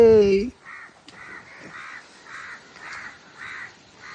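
A voice speaks briefly, then crows drawn in by a broken coconut caw about eight times in a steady rhythm, moderately near and fairly loud.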